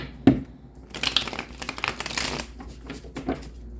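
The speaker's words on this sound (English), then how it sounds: "One more shuffle." Tarot cards riffled and shuffled in quick papery bursts, close by, with a sharp tap near the start and no talking.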